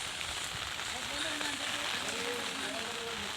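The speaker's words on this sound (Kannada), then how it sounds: "ಮಳೆ ಬರ್ತಾ ಇದೆ ನಾನು ಕೂಡ ಇಲ್ಲಿ ಮಳೆಯಲ್ಲಿ ಛತ್ರಿ ಹಿಡ್ಕೊಂಡು ವಿಡಿಯೋ ತೆಗಿತಾ ಇದ್ದೀನಿ" Steady rain pattering on surfaces outdoors in a village by a damaged public bus shelter, a dense even hiss throughout with faint murmuring under it.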